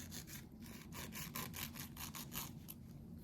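A hand file rasps back and forth in quick, even strokes to clean up a carved V cut, very quiet and close with a low steady hum beneath it.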